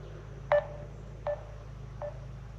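A few short electronic beeps from a telephone being dialed, three separate tones spaced about a second apart over a low steady hum, fairly faint.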